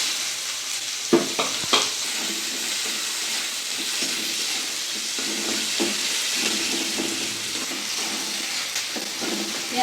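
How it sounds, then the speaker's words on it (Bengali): Onions frying in mustard oil in a pan: a steady, loud sizzle runs throughout, broken by several sharp scrapes and taps of a utensil stirring, with no talk. "কিছুটা পেঁয়াজ আমি ভেজে নেব।"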